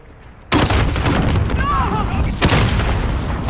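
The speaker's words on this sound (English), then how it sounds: "Shoot that grenade launcher at him." A grenade launcher fires in Call of Duty: Modern Warfare: a loud, sudden boom breaks the quiet, then a second blast follows about two seconds later, both with rumbling tails that fill the clip.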